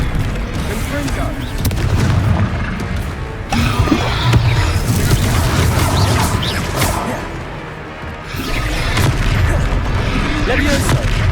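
Repeated heavy blasts and booming impacts from the Confringo fire spell in Hogwarts Legacy during a fight with a troll, loud explosive bursts layered with combat noise and voices.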